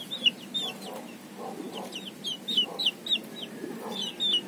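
Chickens cluck repeatedly in short bursts, with sharp high calls scattered through, close by against a steady farmyard murmur.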